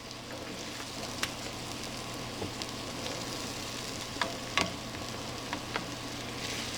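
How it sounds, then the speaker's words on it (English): Butter melting in a pan gives a steady, close sizzle and crackle with scattered small pops and no voices. "We're going to melt the butter"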